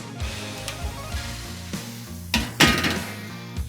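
A metal spatula smashes a burger patty with onions on a 22-inch Weber kettle griddle accessory: scattered dull clanks and scrapes, then two louder sharp metallic strikes near the end, with no talk.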